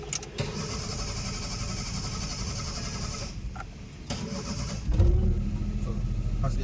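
During a driving lesson, a car's engine is started near the end, catching with a low rumble that settles into a steady idle after some cabin noise and brief voices.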